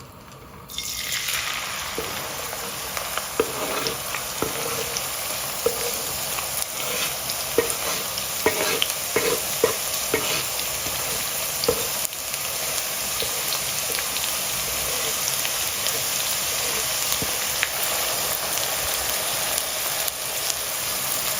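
Onions frying in a pot of oil for pilau, a loud sustained sizzle that starts abruptly and crackles steadily, with occasional stirring scrapes and pops along the way.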